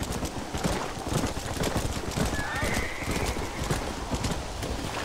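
Horses in the video game Red Dead Redemption gallop in a dense, continuous patter of hoofbeats, loud and close, with a brief neigh rising midway through.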